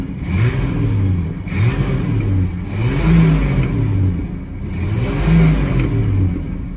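The six-cylinder 4.1 engine of a Chevrolet Caravan Diplomata idles close by and is blipped repeatedly, each rev rising and falling in a rhythmic, throaty pattern with no talk over it.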